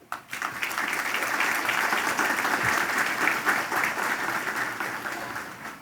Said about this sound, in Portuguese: nesse instante, peço uma salva de palmas